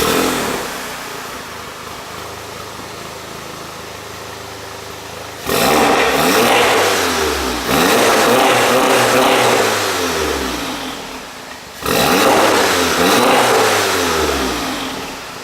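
A Volkswagen fitted with a JB4 tuner and new downpipe cranks over and idles, then revs hard three times in loud bursts, each rise falling back to a rumbling idle between pulls.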